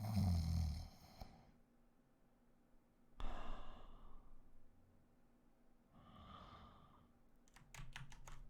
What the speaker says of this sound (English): maybe minus the breathing sounds